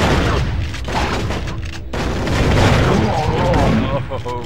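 Dense, continuous gunfire and booming blasts from the Turok: Rage Wars shooter, loud and busy throughout as a player gets cornered and shot dead, with overlapping bursts and impacts.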